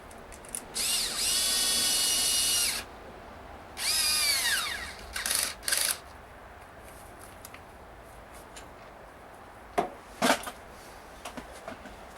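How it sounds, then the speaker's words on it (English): Power tool tightening the intake clamp on a Cummins 6BT 12-valve diesel engine in a 1995 Dodge Ram: two long loud whirring bursts followed by several short spurts, then a few faint clicks and taps alone. "the one last thing to tighten is our intake clamp"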